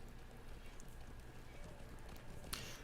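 Horse hooves clip-clopping in the online game Lord of the Rings Online, a steady faint patter of steps running continuously under a low game soundscape, with a small sharp click near the end.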